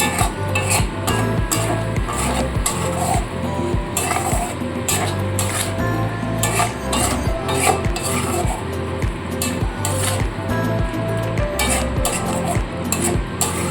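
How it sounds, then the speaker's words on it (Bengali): Continuous stirring of spice paste sautéing with a little water for a potol and prawn curry, with dense rhythmic scrapes and knocks of a spoon against the pan over a constant sizzle, close and loud. "অল্প অল্প জল দিয়ে মশলাটাকে সুন্দর করে কষিয়ে নিতে হবে"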